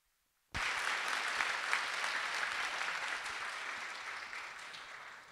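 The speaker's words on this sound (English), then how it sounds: "Let's warm up the PyConJP with big applause again." Applause erupts suddenly from the audience at the PyCon JP 2018 Python conference opening and fills the hall as a dense, sustained roar of clapping that slowly tapers over five seconds, with no talking.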